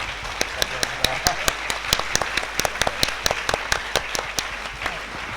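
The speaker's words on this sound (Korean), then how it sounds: "다 같이 좀 일어나셔서 우리 박수로 감사합니다 하는 표현을 한번 드리고 마치도록 하겠습니다" A standing audience at a Korean missionary conference panel discussion in Thailand claps to thank the panelists. The claps are sharp and individual, fairly sparse and close, with a loosely rhythmic pattern throughout.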